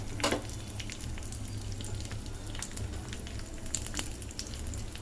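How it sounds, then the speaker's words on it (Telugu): Hot oil sizzles and crackles steadily up close as a tempering of garlic and curry leaves fries, with sharp pops scattered throughout and no talking. "వేసేసి మనం తాలింపు మరిగించుకోవాలి"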